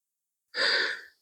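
One slow, soft exhalation through the mouth during a yoga class, a breathy sigh that swells and fades over about half a second after a moment of silence, close and quiet, with no talk.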